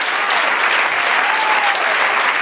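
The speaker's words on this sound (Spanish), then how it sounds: "De un aplauso, Señor." A dense wash of applause from a large crowd at a church service, loud and continuous throughout.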